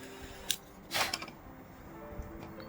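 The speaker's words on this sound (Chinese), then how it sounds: "我们再剪一根藤条把它连接上" Scissors snipping a PE rattan strand during basket weaving, a couple of quick close crisp cuts, one sharp click then a louder snip, over quiet room tone.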